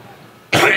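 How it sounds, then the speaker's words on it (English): A single throat clearing bursts out loudly and close after a half-second of quiet room tone. "Clear my throat."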